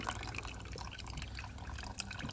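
Wort draining from a Ss Brewtech infusion mash tun while brewing a West Coast IPA, a steady close liquid trickle and splashing into a vessel, continuous and even throughout with no talk.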